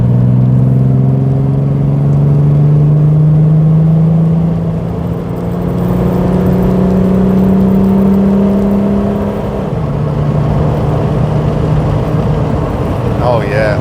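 A Gilbern Invader Mk3 sports car accelerating hard, its engine note climbing loud and close through successive gear changes, with steady road and wind roar underneath.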